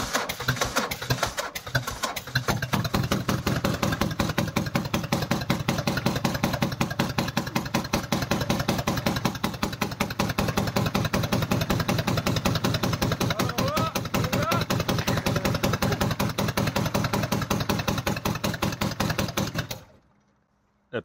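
A Renault Safrane with a 2-litre DTI diesel engine and a fault runs at a loud, steady idle with a rapid rhythmic clatter, close by, for about twenty seconds before it abruptly stops.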